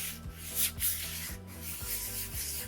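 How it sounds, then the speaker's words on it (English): A cast iron skillet is scrubbed with coarse salt, producing close, gritty rubbing strokes in a steady back-and-forth rhythm, with no talk. "use salt on my pans than use sandpaper. And what that does is it smooths out the bottom"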